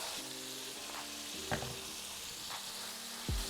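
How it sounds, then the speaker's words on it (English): One pound of ground beef with onion, minced garlic, salt and pepper frying in a hot pan, a steady close sizzle with a few sharp spatula knocks and scrapes and a low hum beneath. "Pan is hot and I'm gonna add the meat. I'm using 1 pound of ground beef."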